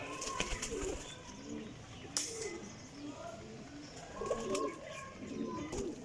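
A desi pigeon coos in soft, repeated low rolling phrases among other pigeons at a pigeon loft, with a few brief chirps and sharp clicks over steady background noise.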